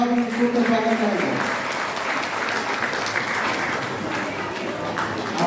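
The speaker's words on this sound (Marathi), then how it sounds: "सर्वांनी टाळ्या वाजवून उत्सुकतेने स्वागत करायचं." An audience at an MTNL Mumbai employees' welfare association annual gathering applauds a lamp-lighting ceremony; a voice speaks at first, then sustained applause from many hands fills the hall and holds steady.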